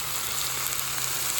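Pork for carnitas browns in a hot pan, giving a steady, close sizzle with dense crackling hiss and no talk.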